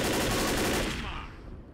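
Rapid automatic gunfire from weapons in the video game Left 4 Dead, a loud continuous rattle that drops off and fades out in its final moments.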